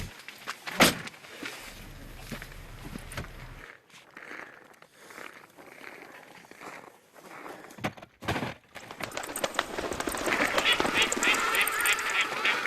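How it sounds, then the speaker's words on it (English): Swans call outdoors on a frozen winter morning at minus 16 degrees Celsius in the Gobi desert, with honking cries scattered among knocks and rustles that grow into a busier stretch of calls near the end. "Eight swans and 2 eaglets."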